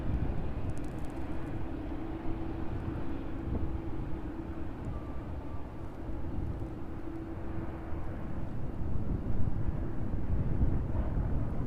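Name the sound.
aircraft taxiing toward runway 27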